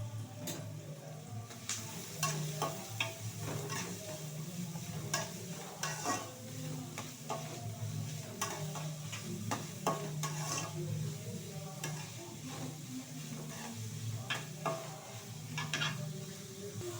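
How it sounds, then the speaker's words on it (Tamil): Onions sizzle and fry in hot oil in a pan, a soft steady crackle broken by frequent stirring clicks and scrapes, quiet and close with no talking. "ஆயில் ஹீட் ஆனதுக்கப்புறம் ஆனியன் சேர்த்துக்கலாம்."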